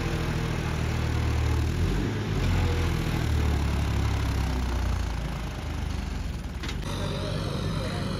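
Modified John Deere 5075E tractor with a reworked pump and turbo, its diesel engine idling steadily and close by with a deep, even rumble and no talking.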